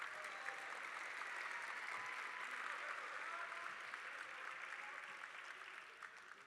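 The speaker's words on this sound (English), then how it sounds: "So let's give them a big old round of applause" Applause fills a high school awards assembly, a dense, distant wash of many hands clapping that holds steady, then thins and fades toward the end.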